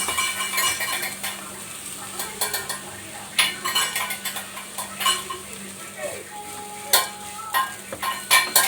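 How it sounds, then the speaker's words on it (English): Mashed potatoes are stirred in a pan: a spoon scrapes and clinks against the metal over a low sizzle in uneven, irregular strokes, with a faint voice in the background. "and now we'll add the mashed potatoes"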